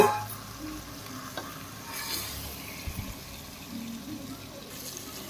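Fish pieces going into a curry mixture in a pan, with a soft stirring and sizzling sound that runs low and steady under a faint background hum, with a few small splashy touches.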